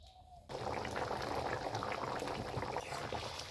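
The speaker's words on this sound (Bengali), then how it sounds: "এখন একটু বেশ ভালোভাবে নাড়াচাড়া করে নিয়ে আরও কিছুক্ষণ সময় ফুটিয়ে নেব" An egg and new potato curry bubbles steadily in a pot, a continuous close, busy boil that starts abruptly after a short quiet moment and carries on with no voices.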